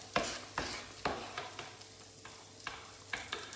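Potato pancake batter frying in oil in a pan, a soft continuous sizzle broken by periodic scraping strokes roughly every half second, close and fairly quiet with no voices.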